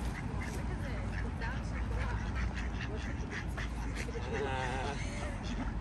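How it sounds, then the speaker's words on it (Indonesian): Ducks quacking repeatedly amid a busy outdoor background in Stockholm, with pigeons around and people talking nearby throughout. "banyak bebek-bebek serta merpati"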